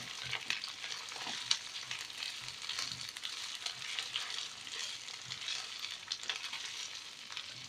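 Onions fry in a pan while being stirred for a tagine, giving a steady, fairly soft sizzle with light scraping from the stirring and no talking.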